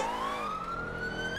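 A Hampshire Constabulary police siren, modded into the video game GTA 5, wails steadily and loudly with a rising tone throughout, standing alone with no talk over it.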